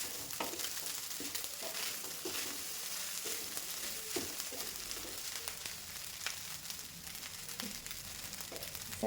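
Oil sizzles and crackles steadily in a pan as a tempering with shredded greens fries for rice and avalakki (beaten rice), close and continuous, with occasional stirring clatter and no voices.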